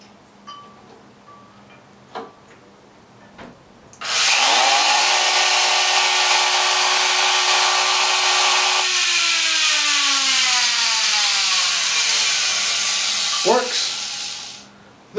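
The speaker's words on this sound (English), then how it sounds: "And I'm just going to plug in my little Makita router," A small Makita router switches on with a sharp rising whine, runs loud and steady at high speed for about ten seconds, then winds down with a falling pitch; brief clicks and faint handling noises come before it.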